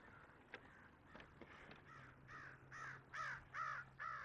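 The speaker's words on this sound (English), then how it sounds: "There were 2 crows on the bridge" Two crows perched on a bridge over a creek caw repeatedly, harsh calls starting faint and growing louder and closer into a steady rhythmic series, over low outdoor background hum.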